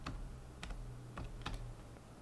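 Keys tapped on a computer keyboard while filling in an online applicant registration form, a few separate clicks and short bursts of keystrokes spread over a couple of seconds, fairly faint against a low steady hum, with no talking.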